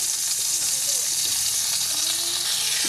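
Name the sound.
sautéing onion, garlic and ginger in margarine and oil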